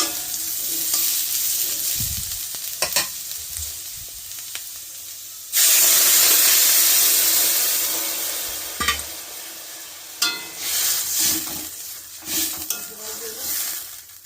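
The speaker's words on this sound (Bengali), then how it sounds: "কালো জিরে শুকনো লঙ্কা ফোড়ন দিয়ে" Black cumin seeds and dried chilies hit hot oil for a tempering, giving a sudden loud sizzle that slowly fades, with scattered clinks and scrapes of stirring before and after.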